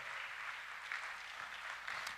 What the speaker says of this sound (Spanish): démonos un aplauso todos